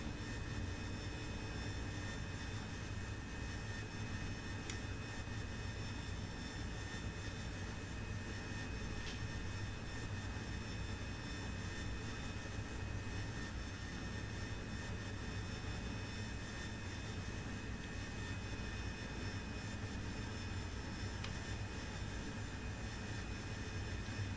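An AV-8B Harrier jet taking off in the DCS flight simulator game, a steady, fairly quiet roar of jet engine noise with a constant whine and no talk.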